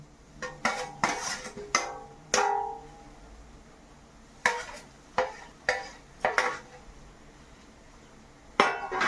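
Roasted vermicelli goes into boiled water in a home kitchen pot, heard as a series of sharp metallic clanks and scrapes of a spoon against the pot, spaced irregularly over a quiet background.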